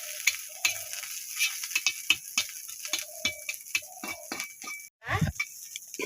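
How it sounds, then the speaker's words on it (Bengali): Drumstick leaves with dried red chillies crackle in a pan, giving intermittent sharp sizzling pops and stirring clicks at close range, fairly quiet, with a brief louder clatter near the end. "সাজনা পাতা দিলাম শুকনো লঙ্কা দিব"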